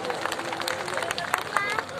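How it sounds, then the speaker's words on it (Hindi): Applause at a business seminar gathering in a hall, a crowd clapping in a dense, steady patter with some murmuring voices mixed in, moderately loud and continuous. "एक बार उनके लिए जोरदार ताली हो जाए।"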